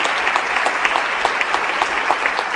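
Loud, continuous crowd applause at a governor's speech, many hands clapping densely with sharp individual claps popping out, steady throughout.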